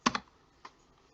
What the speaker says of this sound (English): type it into your favorite browser